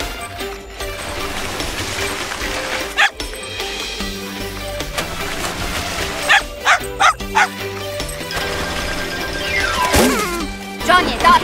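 A cartoon dog barks and yips in several sharp bursts over busy animated-show music and effects, with a crash-like hit near the end.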